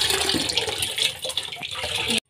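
Running water steadily rinses a container for kala khatta syrup, a broad continuous splash with no voices.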